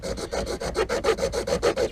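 Plastic wings being trimmed off a Porsche Cayenne Turbo headlight: a steady, close rasping saw-like scrape in about a dozen even strokes, with no talking.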